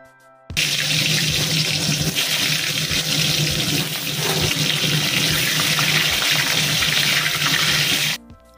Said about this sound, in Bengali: এবার আমি ঝটপট চলে আসলাম চিকেনটা ধুয়ে